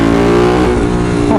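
A Ducati 916 motorcycle engine pulls hard from low revs in the wrong gear, a loud, close, steady droning rumble that rises slightly in pitch.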